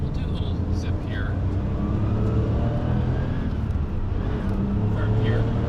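A Porsche 993 911 Twin Turbo engine pulls hard in second gear on a highway beside 18-wheelers, with a steady loud drone and rising tones from inside the car.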